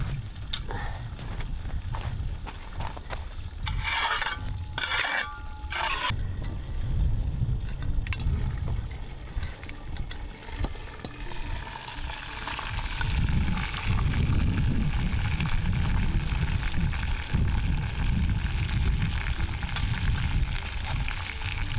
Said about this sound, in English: So you can hear it sizzling in there.